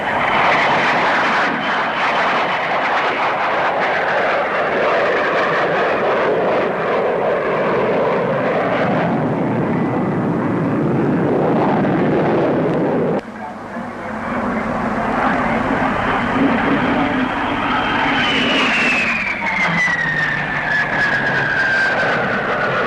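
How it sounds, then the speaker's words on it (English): A de Havilland DH-112 Venom jet fighter, developed from the Vampire, roars past at an air show, with a loud steady engine rush and a falling whine as it pulls away. "Here's the DH-112, the Venom,"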